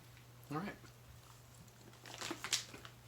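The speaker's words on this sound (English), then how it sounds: "Very easy to chew." Alligator jerky being chewed close to the mouth gives a few soft, wet crunching bursts near the end, after a brief voiced hum early on, over a low steady electrical hum.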